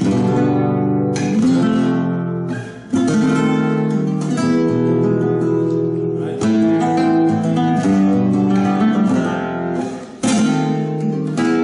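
Nylon-string guitar plays a flowing chord progression in a flamenco style, with strummed chords and brief pauses between phrases, close and clear.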